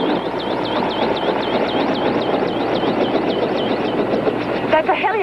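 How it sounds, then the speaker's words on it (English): A helicopter's engine whines and its rotor beats steadily, a continuous loud drone with a cyclic, warbling pitch that persists throughout. "That's a helicopter"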